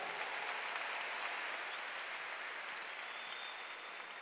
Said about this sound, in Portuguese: Uma salva de palmas para Natália